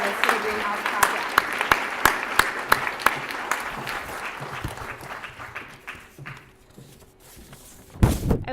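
Audience applause at a PTK induction ceremony for the Greenhouse Project group, a steady patter of many hands with a few sharp louder claps, fading out near the end before a final knock or thump.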